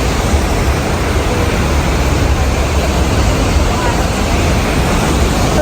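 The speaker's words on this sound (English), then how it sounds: "But the place here we call it a waterfall" Tegenungan Waterfall in the village of Kemenuh, Bali, roars as a loud, dense, unbroken wash of falling water that fills the whole clip with no talk.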